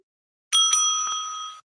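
A single bright ring from a small handheld bell, like a bicycle bell, struck by a debate timekeeper, loud and close, its clear metallic tone sustaining about a second before cutting off.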